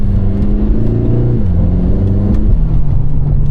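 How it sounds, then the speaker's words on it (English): A Lotus Emira's 2.0L AMG four-cylinder, in track mode with the manual gearbox, revs loud and close, its pitch climbing, dipping and climbing again over a continuous deep engine drone, with no talking. "The noises that this 2-liter AMG makes are pretty ridiculous."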